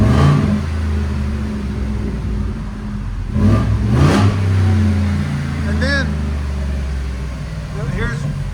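A 2021 Ford F-250 with a 6.2L V8 idles with its exhaust valves open, deep and loud up close, with a couple of brief revs and voices talking over the rumble.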